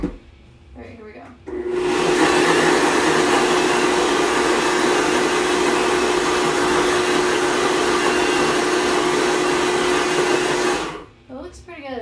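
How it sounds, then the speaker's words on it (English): A blender whirs loudly and steadily for about nine seconds, mixing the liquid ingredients for a vegan lemon cake batter, starting and stopping abruptly with brief quiet moments on either side. "So I'm gonna blend it again, which means it's gonna be noisy."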